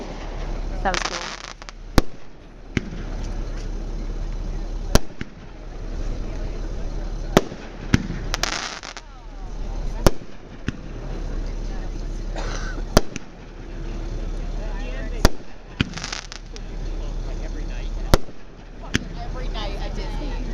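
New College 50th anniversary fireworks go off outdoors as repeated sharp bangs every few seconds, some followed by crackling bursts, over a constant low rumble while onlookers talk.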